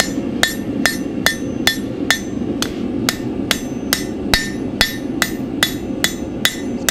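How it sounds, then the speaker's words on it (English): Steady rhythmic hammer blows texturing a hot forged metal door latch, about fourteen sharp metallic strikes at an even pace, loud and close with no talking. "Just giving it a little bit of a hammer texture here."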